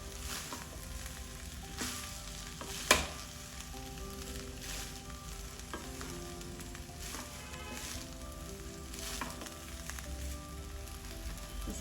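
Rice stir-fried in a pan for egg fried rice, a steady sizzle and crackle running throughout with soft scraping stirs and one sharp clink near the start, no voices.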